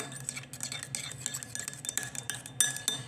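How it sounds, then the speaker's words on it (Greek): A utensil stirs mayonnaise and ketchup together in a bowl, producing rapid, irregular clinks and scrapes against the bowl, close and fairly quiet, with no talking. "μετά παίρνουμε ένα μπολ και βάζουμε μέσα τη μαγιονέζα και την κέτσαπ. Θέλουμε να είναι κάπως έτσι και την ανακατεύουμε"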